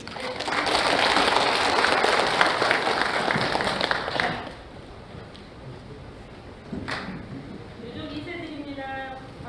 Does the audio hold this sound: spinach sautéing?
no